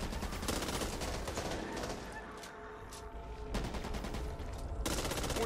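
Gunfire from the video game Back 4 Blood, loud dense bursts of shots running almost continuously, with brief dips between volleys.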